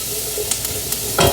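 Shrimp, chicken and vegetables sautéing for a stir fry in a hot pan, with a loud, constant close sizzle and a few stirring scrapes, swelling briefly at the end.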